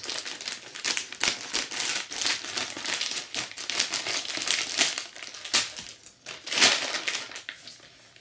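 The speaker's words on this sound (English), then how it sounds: "we cut just below the seal of the bag" Plastic crinkles and rustles up close as a bag is handled and cut, with a few sharper snips, no talking.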